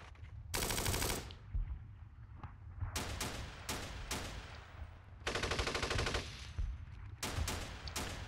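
Bursts of gunfire from the wargame Steel Panthers, set in an Iran-Iraq war battle of 1980: several loud, dense broadband volleys of machine-gun and rifle fire, separated by short gaps, with no speech.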